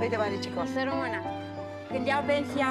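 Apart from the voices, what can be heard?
No everyday noise stands out behind the speech.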